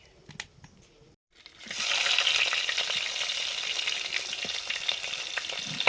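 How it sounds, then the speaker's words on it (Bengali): Sundari crabs fry in a pan. A few quiet clicks and a brief silence come first, then a loud, steady sizzle rises and holds close up, with scattered crackles and no talking. "কাঁকড়াগুলো ভেজে নিচ্ছি"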